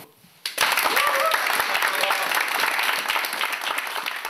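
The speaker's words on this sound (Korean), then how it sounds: "박수 한번 치고" Military unit members clap for a departing air force captain: after a brief quiet moment, a loud burst of dense applause breaks out and holds steady, with faint voices mixed in.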